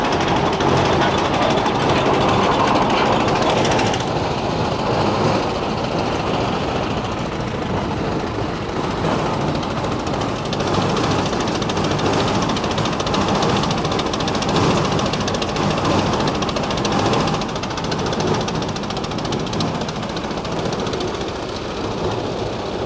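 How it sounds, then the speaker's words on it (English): A stationary steam engine at a steam threshing festival runs steadily, driving a small merry-go-round by a belt, with continuous mechanical chugging and clatter throughout. "We've got a stationary steam engine. It's connected by a belt over to a little merry-go-round."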